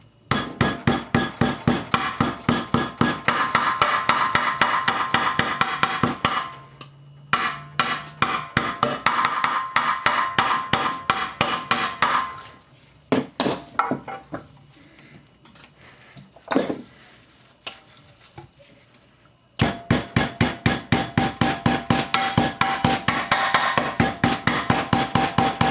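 Repeated sharp tapping seats a valve cover gasket into place on a 1994–97 Honda Accord, in bursts of rapid, fairly loud knocks separated by quieter gaps.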